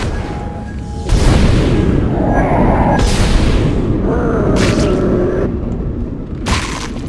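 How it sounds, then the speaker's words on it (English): Loud creature explosions burst in a sci-fi horror shooter, a few heavy booms with crackling debris and reverberant tails arriving one after another over steady low rumble. "it was just delaying the explosion when I shot them"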